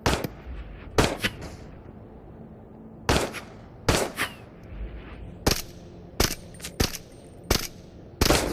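Enemy gunfire in the Into the Radius video game comes as sharp single shots and quick pairs at uneven intervals, loud cracks that each fall off into a short echo over quiet background.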